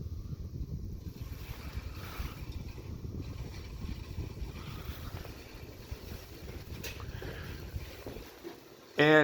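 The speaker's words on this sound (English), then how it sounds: "it's moving pretty fast on high speed. Like you said, you can hear the rattling." An Emerson 1895 Series ceiling fan runs on high speed with a rattle, making a steady, rushing whoosh of moving air that continues throughout.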